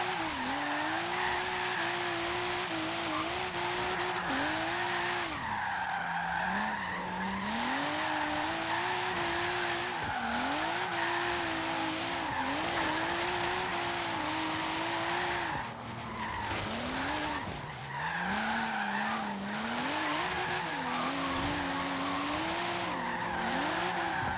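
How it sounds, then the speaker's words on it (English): Toyota AE86 drifting in Forza Horizon 3, with sustained loud tire squeal wavering in pitch over a steady revving engine, continuous throughout with brief dips as the car transitions between slides. "Drift around that AE86."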